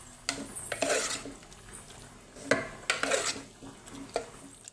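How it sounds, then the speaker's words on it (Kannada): A ladle mashing softly cooked tomatoes in a pot of drumstick sambar, with repeated scraping, squelching strokes and light metallic clanks against the pot in an uneven rhythm. "ಈ ರೀತಿ ಸೌಟಲ್ಲಿನೇ ಇದನ್ನು ಚೆನ್ನಾಗಿ ಸ್ಮ್ಯಾಶ್ ಮಾಡ್ಕೋಬೇಕು."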